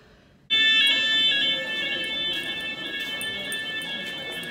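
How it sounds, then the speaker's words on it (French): A fire alarm suddenly starts blaring, a loud continuous high-pitched electronic tone that keeps sounding over faint background noise. "Alarme incendie."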